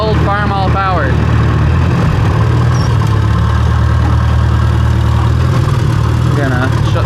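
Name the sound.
Farmall tractor engine running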